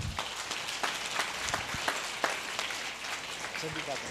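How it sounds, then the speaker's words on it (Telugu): A meditation gathering at Omkareshwar applauds a Japanese master. Dense, steady clapping from a sizable crowd holds at an even level for the whole stretch, with a voice faintly audible underneath. "ఈ జపాన్ మాస్టర్కి గట్టిగా చప్పలు కొడదాం మనం"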